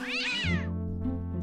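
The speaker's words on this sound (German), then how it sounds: "Was für eine niedliche Miezekatze." A cartoonish cat in the Day of the Tentacle adventure game lets out a single clear, close meow that slides high and then falls, over a sustained musical drone.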